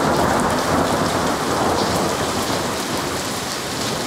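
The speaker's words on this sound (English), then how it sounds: "Louder the storm, the better." Steady heavy rain pours during a Missouri thunderstorm, with low thunder rumbling continuously underneath, a dense, loud, close wash of sound with no talking.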